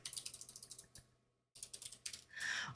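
Quick runs of key clicks on a computer keyboard, a rapid rhythmic patter that pauses briefly, resumes in another burst, then ends in a rustling shuffle, quiet and close.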